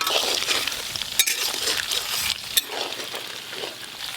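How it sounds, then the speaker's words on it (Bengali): Small chicken pakora pieces deep-fry in hot oil with a dense, steady sizzle close by, punctuated by a couple of sharp metallic clinks, with no talking. "ছোট ছোট চিকেন পকোড়া হচ্ছে।"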